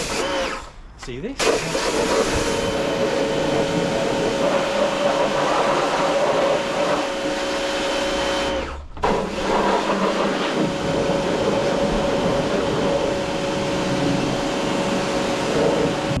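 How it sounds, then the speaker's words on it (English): Pressure washer running steadily beside a car engine bay on an MG ZT 190, a continuous loud motor hum with brief dips, while a person talks over it. "Okay, so I've got my jet washer all ready to go."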